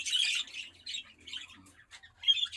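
A young budgerigar that has just grown its first feathers chirps and squawks up close, giving a quick run of thin, high, scratchy calls with short gaps between them and no talking.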